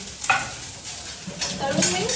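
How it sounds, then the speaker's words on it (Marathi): Coriander stems fry in a spiced masala, giving a steady soft sizzle with a few brief stirring scrapes at moderate volume and no talking. "कोथिंबीरच्या काड्या त्या पण मी मसाल्यामध्ये तळून घेईन."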